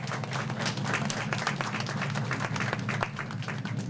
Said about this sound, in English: How about a nice round of applause for these young people?